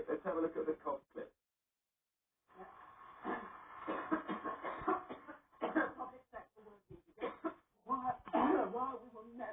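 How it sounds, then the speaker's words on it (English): A speaker at a public address breaks into repeated coughing and throat clearing, bursts interrupted by a short silence and mixed with strained talk, close and clear. "Let's have a look at the cough clip."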